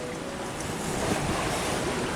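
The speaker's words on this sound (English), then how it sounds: "we're now exposed to the waves and they're not that bad like they were 10 feet on the other side" Waves washing against a reefed sailboat at sea off Martinique, taken from the side, with a steady broadband rush and wind noise buffeting the microphone throughout, no voices.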